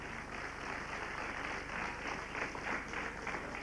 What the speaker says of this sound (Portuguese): Então um aplauso, por favor, para a Marta.